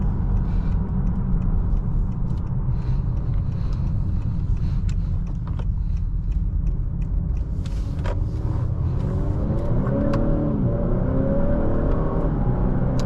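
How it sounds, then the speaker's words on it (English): A 2021 Honda Accord Touring with the 2.0T turbo engine and front-wheel drive accelerates on a curvy road, heard from inside as a steady loud engine rumble and road roar that rises in pitch toward the end. "the tires will get skittish upon hard acceleration"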